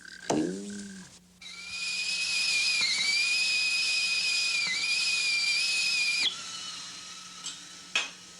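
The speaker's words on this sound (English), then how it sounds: "Have you ever wondered why a whistling tea kettle whistles?" A whistling tea kettle sounds off alone, a short rising squeal swelling into a loud, sustained high-pitched whistle that wavers slightly in pitch for several seconds before cutting off.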